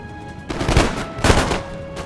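A musket volley fired by infantry in Empire: Total War, two ragged bursts of massed gunfire crackling close and loud, one after the other, with no talking.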